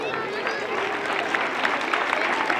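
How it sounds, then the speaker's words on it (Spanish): An audience applauds at a football school's season presentation in Pozoblanco, a steady wash of dense clapping with crowd murmur running through the whole stretch. "un fuerte aplauso"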